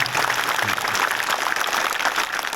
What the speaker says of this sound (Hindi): तो उनके सर सम्मान में आप जोरदार तालियां बजाएं।